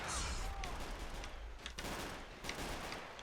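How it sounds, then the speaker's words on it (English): Battle noise from a multiplayer strategy video game match: scattered gunfire cracks and explosion booms thud in irregular bursts at a moderate distance, layered over a rumbling background. "Whole lot of explosions."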